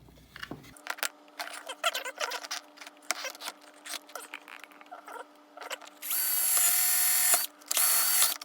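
A power drill whirs in two sustained bursts near the end, drilling a circuit board, preceded by clicks, taps and handling noises of small work on a bench.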